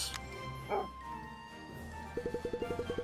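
Short electronic dog barks in the video game Cat Quest 2, a quick rapid series of yips near the end after a brief whimper-like sound, over faint game background music.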